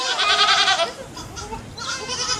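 Goats on a farm with around 300 animals of different breeds bleat in close, loud wavering calls, one long bleat followed by a pause and then another, with no talking.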